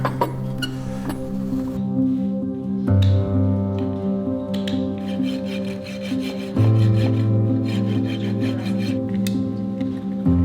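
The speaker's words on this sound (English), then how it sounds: "we'll glue this on and we'll kind of rasp it down to shape" A farrier rasps a glued-on shoe on a horse's hoof down to shape with repeated close, loud, harsh scraping strokes in a steady rhythm, with no talk.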